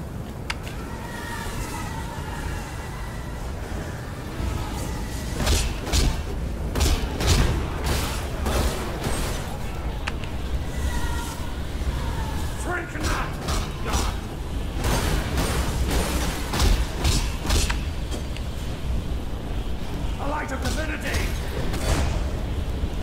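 Enemies blowing up in the action RPG Path of Exile, with repeated booming bursts and crackling blasts over a dense, busy game soundscape, some clustered close together.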